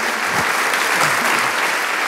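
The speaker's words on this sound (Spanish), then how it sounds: "Vamos a darle un fuerte aplauso al Señor." A church congregation applauds loudly and steadily, a dense continuous wash of clapping from many hands that lasts throughout with no pause.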